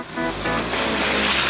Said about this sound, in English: Up first is driving through water.